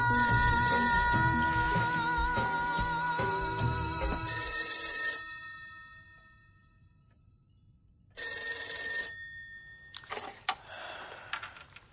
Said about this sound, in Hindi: हाँ विजय, अच्छा हुआ तुमने फोन किया